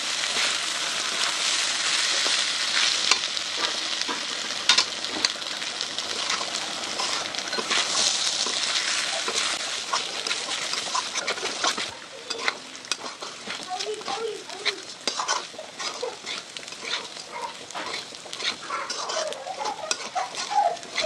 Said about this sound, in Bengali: এবার নেড়ে নেড়ে আমি ভেজে নেব।